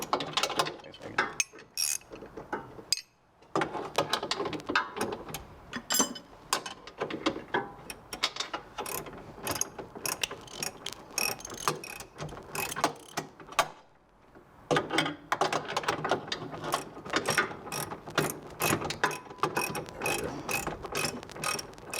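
Ratchet loosening a bolt on a car before the subframe is dropped in a garage: long runs of rapid close clicking in bursts, with brief pauses near three and fourteen seconds.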